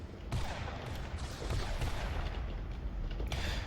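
An orbital weapons platform in a video game firing repeatedly, a dense barrage of booming shots and rumbling impacts that are continuous and fairly distant, heard at low level with no clear talk.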